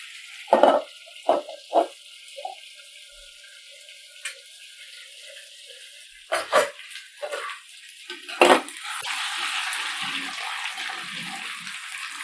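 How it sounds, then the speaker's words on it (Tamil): Brinjal sautéing in a pan for thokku, giving a soft sizzle with a few sharp stirring clatters early on, then a steadier, louder frying hiss toward the end. "கத்திரிக்காய் கொஞ்சம் நல்லா வதங்கி வரணும்."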